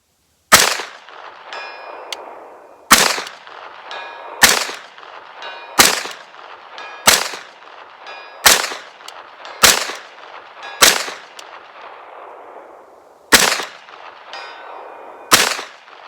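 Eleven sharp gunshots from a SAR 109T 9mm pistol, fired outdoors as loud single cracks in spaced groups with short pauses between, each trailed by a brief ringing echo.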